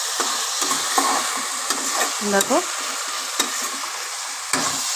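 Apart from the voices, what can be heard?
frying Kashmiri chili powder, sugar and turmeric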